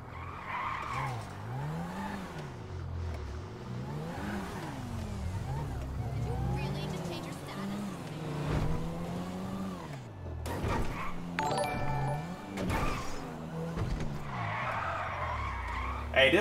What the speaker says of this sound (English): Hey, this little car is out of control.